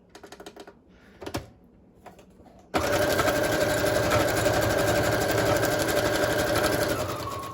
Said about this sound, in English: now I'm going to go ahead and just sew around this entire page